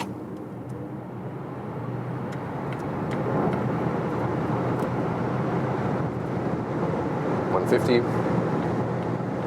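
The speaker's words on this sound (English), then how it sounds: "So now accelerating it all out." Volvo XC40 Recharge Pure Electric P8 AWD accelerating flat out on the Autobahn from about 30 to 180 km/h, a steady broadband road and wind roar rising slightly in level, heard from inside the cabin under ongoing talk.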